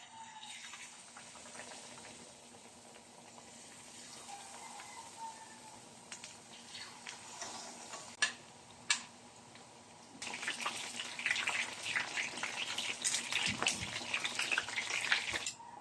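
Fish fillet frying in preheated oil, a soft low sizzle that swells into a louder, denser crackling hiss partway through, with a few sharp clicks and no talking.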